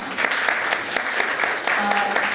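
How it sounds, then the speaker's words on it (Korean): An audience at a university innovation forum applauds a student award winner, with moderately loud, even clapping that holds throughout. A few sharper claps stand out, and a faint tone and a brief voice sit underneath. "다시 한번 박세근 학생에게 큰 박수 부탁드립니다"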